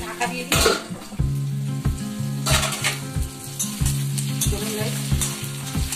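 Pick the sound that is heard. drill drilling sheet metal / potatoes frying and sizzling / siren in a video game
potatoes frying and sizzling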